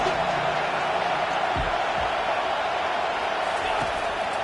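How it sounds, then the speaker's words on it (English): A stadium crowd roars at a college football game between Mizzou and Oklahoma, a loud dense wash of noise that never lets up, with a few dull thumps underneath. "this crowd is tearing the lid off this place"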